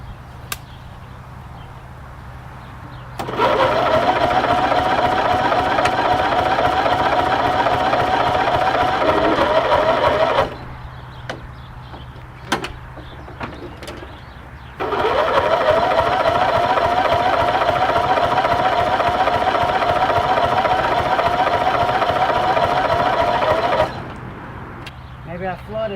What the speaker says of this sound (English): normally the engine is used to cranking over a lot faster than that